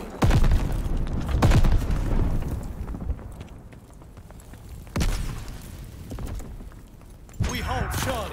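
Grenade explosions in the multiplayer game Call of Duty: Vanguard land as heavy booms, one near the start and others around five and seven seconds, mixed with gunfire and short in-game voice callouts.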